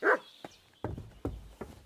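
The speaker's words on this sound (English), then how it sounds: "The dog is barking." A dog in Kingdom Come Deliverance 2 barking about five times, a sharp first bark followed by deeper, spaced woofs at a moderate distance.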